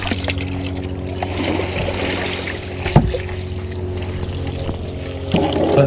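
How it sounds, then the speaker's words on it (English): Water trickles and splashes while a container is rinsed out on a farm during morning chores, a low steady running sound with a brief louder splash partway through. "we can go ahead and rinse this one out"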